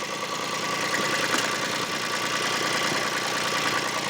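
Japanese car engine in poor technical condition struggling to run properly, a rough, uneven knocking idle with steady vibration, continuous and fairly close throughout.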